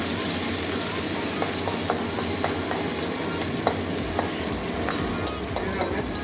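Onions frying in a pan with salt sizzle steadily while a spatula stirs them, scraping taps recurring every half second or so at close range.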